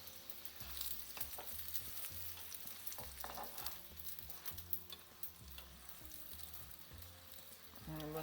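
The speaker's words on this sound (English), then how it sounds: "Now you have to fry you have to fry it on a medium heat" A stuffed paratha fries on a pan over medium heat, giving a steady low sizzle with periodic soft pressing and scraping sounds at a regular rhythm, close by and without talk.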